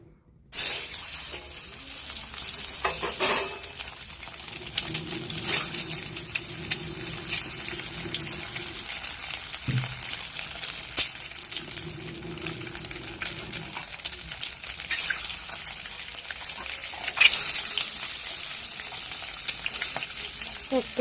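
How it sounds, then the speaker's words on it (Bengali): An egg fries in a pan with a steady crackling sizzle that continues throughout, broken by a few knocks and scrapes of a utensil. Running tap water can be heard now and then in the background. "এবার ডিমটা ভেজে নেব।"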